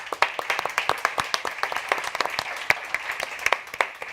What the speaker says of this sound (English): A big applause for the